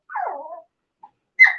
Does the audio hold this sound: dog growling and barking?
yes